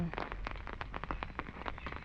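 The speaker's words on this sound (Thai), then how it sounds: "ใครมาช่วงฝนตกก็จะเป็นบรรยากาศแบบนี้เลยนะ" Rain falling outside an igloo resort room, heard as a brief patter of scattered drops on a surface, fairly close and continuous.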